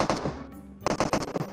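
Rapid bursts of automatic gunfire in the mobile battle royale game PUBG Mobile, a burst, a short gap, then several more close, loud volleys of shots.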